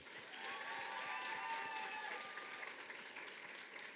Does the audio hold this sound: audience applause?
yes